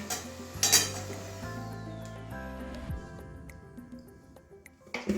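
A metal pot of water lily curry is lifted off a stove, giving a sharp metallic clank followed by sustained ringing tones that decay over several seconds, with a soft sizzle and another clatter at the end.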